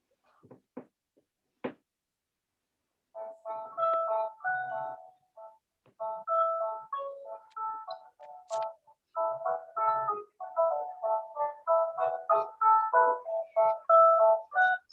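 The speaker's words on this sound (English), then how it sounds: "It's just my landline." Landline telephone ringing in a home during a watercolour class, a repeated electronic warbling ring in steady bursts, fairly close and clear, with no talk over it.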